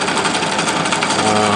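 Pulse motor rotor rattling and knocking against the nearby charging coil, a loud, dense mechanical buzz that runs continuously without pause.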